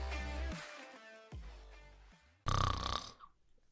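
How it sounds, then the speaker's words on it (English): A person snores loudly in a few long, rasping breaths separated by short pauses, with a harsher, louder snort near the end. "Is your spouse's snoring becoming an issue?"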